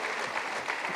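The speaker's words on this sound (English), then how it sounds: "Let's clap hands again for her." Brief burst of audience clapping at a youth empowerment weekend in Mpumalanga, a dense, even patter of many hands lasting about a second.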